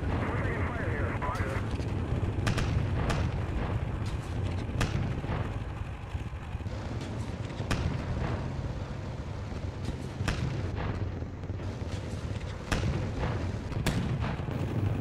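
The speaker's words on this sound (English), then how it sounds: "Bit of artillery coming down in the High Woods." Artillery rounds fall in a war game's wooded area as a steady series of sharp, distant-to-mid thuds and bangs scattered over a constant rumbling battle backdrop, with talk heard throughout.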